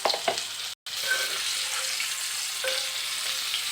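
Ivy gourd and garlic fry in hot oil with a bright, steady sizzle, close and continuous apart from one brief cut.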